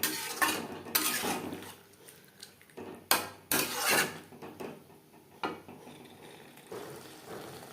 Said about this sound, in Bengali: মশলার সাথে ক্যাপসিকাম বেশ ভালো করে মিক্সড করে দেব। মিডিয়াম ফ্লেমে 3-4 মিনিট নাড়াচাড়া করে নেব।